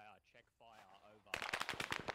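Burst of rapid machine gun fire in the Arma 3 military video game, a fast string of sharp shots following a man's speech, loud and close.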